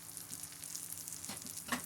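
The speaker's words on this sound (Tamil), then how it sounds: "இப்போ ரசத்துக்கு தாளித்து கொட்டியிருக்கேன்" Steady crackling sizzle of hot oil tempering mustard seeds, cumin and asafoetida poured into rasam, close by, with soft scattered pops and a faint clink near the end.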